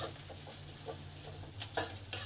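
Cumin, ginger and chili frying in a pan, a faint, low sizzle with soft stirring scrapes and a couple of louder clinks toward the end.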